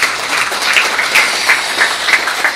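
A crowd at a book launch event applauds a badminton association chairman, close, loud and steady clapping with individual sharp hand claps standing out in a rapid, uneven rhythm.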